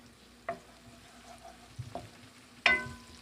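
Ingredients for pansit bihon frying in a pan, a faint low sizzle punctuated by three sharp spatula knocks and scrapes against the pan.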